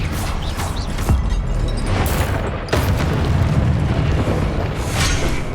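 Expelliarmus spells and combat in Hogwarts Legacy make a continuous booming, crashing clamor. Several sharp impacts and bursts punch through a dense low rumble, loud throughout.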